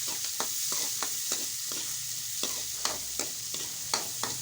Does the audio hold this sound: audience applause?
no